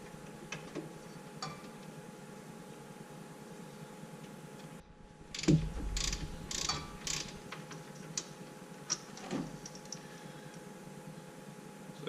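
A ratchet with a T50 Torx bit works loose a pulley bolt on a 1994 Ford F150, giving a short burst of clicking pawl sounds and metallic knocks amid quiet ticking, fairly close and with no talk.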